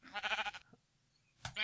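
Sheep bleating in the Minecraft video game, one wavering, close bleat followed by a short pause and the start of another bleat.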